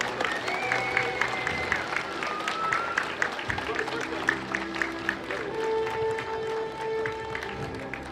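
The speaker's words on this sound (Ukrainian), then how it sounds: "Вітайте оплесками!" A crowd claps and applauds continuously at moderate volume at a school award ceremony, with scattered louder claps and background murmur.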